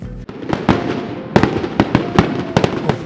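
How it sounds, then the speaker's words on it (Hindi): Firecrackers for a New Year celebration crack in a rapid, irregular series of sharp bangs, loud and close, over a crackling background with no talk. "टाइट वाले पटाखे फट रहे भाई।"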